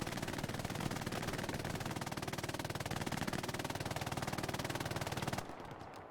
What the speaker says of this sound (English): I hear lots of gunfire going behind me.